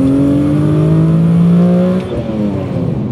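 A BMW fitted with a Nissan V6 engine revs and accelerates loudly and up close, a rising tonal engine note climbing through the gears for two seconds, then a brief dip as it shifts and pulls again.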